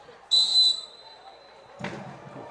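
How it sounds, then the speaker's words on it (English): A football referee's whistle blown close to a microphone during a high school senior night game against Batesville gives one shrill, loud blast about half a second long, followed by a softer burst of crowd and field noise. "Turn that microphone off before you blow that whistle again next time"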